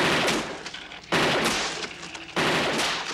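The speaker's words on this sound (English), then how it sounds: "Peter Weller is RoboCop shooting." Gunshots on the RoboCop film set in 1987, three loud blasts roughly a second apart, each sharp onset followed by a long reverberant tail that fills the space.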